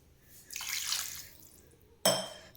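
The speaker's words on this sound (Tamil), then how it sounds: "இன்னும் ஒரு 1/2 கிளாஸ் நான் ஆட் பண்ணுறேன்" Water is poured into a pan of crab masala with a brief rushing splash, followed by a sharper splash near the end.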